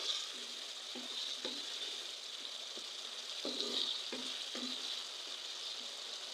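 Potatoes and flat beans with dried fish sauté in a pan, a faint steady sizzle punctuated by soft spatula scrapes at irregular intervals.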